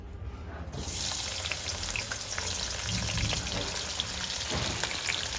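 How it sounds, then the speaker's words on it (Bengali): Sliced onions for beresta sizzle and crackle steadily in hot oil, a dense close frying hiss that starts just under a second in and continues without a break, with no voices. "বন্ধুরা তেল গরম হয়ে গিয়েছে, এবারে বেরেস্তার পেঁয়াজগুলো এর মধ্যে দিয়ে দেব।"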